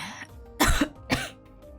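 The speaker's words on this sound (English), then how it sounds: "I'm so sorry for coughing into the microphone." Two sharp, throaty coughs land right on the microphone, close and loud, a short pause between them in otherwise quiet surroundings.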